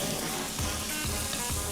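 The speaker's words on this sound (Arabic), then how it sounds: "وهقلب ده كله كده مع بعضه" Whole spices such as cloves and cinnamon are stirred together in a hot frying pan, giving a soft, steady sizzle with faint scraping strokes that recur at a regular rhythm.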